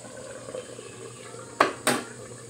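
A lid goes onto a cooking pot with two quick, close metallic clinks in a row over quiet kitchen background.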